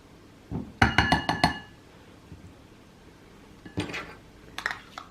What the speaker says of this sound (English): I needed a spoon to mix it well.